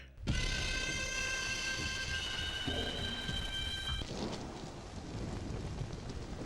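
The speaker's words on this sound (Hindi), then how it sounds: "इतनी बारिश में छाता क्यों नहीं लाए?" Heavy rain pours steadily in a dubbed film scene, a dense continuous hiss throughout with sustained tones layered over the first part.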